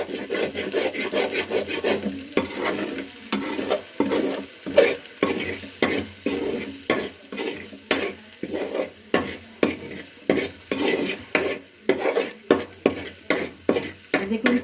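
Masala spices fry in a pan while being stirred firmly with a spatula, giving a steady sizzle broken by rhythmic scraping strokes, close and fairly loud, with no voices.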